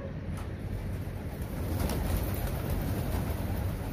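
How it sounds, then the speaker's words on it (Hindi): Pigeons cooing softly in a rooftop loft as the birds are released for a pigeon-flying session, a steady low murmur with faint wing and background noise throughout. "आप देख सकते हो दोस्तों, कबूतर हमने खोल दिए हैं।"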